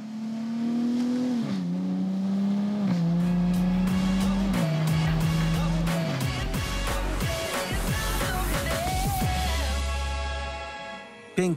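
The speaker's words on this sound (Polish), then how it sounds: "Ten samochód przyspiesza atomowo i pięknie brzmi, jak orkiestra symfoniczna." A sports car with a 3-litre V6 engine accelerating hard, the engine note climbing through several gears with brief drops at each shift, loud and close, with tire noise building toward the end.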